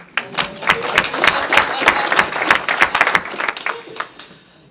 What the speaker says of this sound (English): we have a round of applause for Nathan?